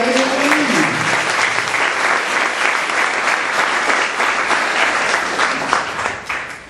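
A church congregation gives a sustained round of applause for the Lord, dense and steady clapping filling the room for several seconds before tapering off at the end.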